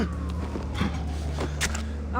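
A police siren in the video game Batman: The Telltale Series wails briefly amid other noise, its tone sweeping downward, with faint clatter and voice-like sounds mixed in.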